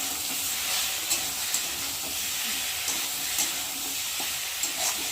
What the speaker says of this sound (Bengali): আর এখানে আছে আদা বাটা, জিরে বাটা। সেটা দিয়ে সবজিটাকে ভালো করে কষাবো।